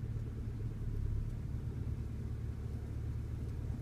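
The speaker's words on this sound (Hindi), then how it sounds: "गाड़ी अभी आवाज करने लगी" A car's engine rumbles low and steady at idle as the clutch comes up to the biting point with the handbrake on, a quiet continuous drone with no voices.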